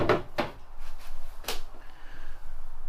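Drawers in a Forest River Aurora 28BHS bunkhouse RV kitchen are opened or shut, giving a few sharp, close knocks and slides spread over three seconds with quiet pauses between them.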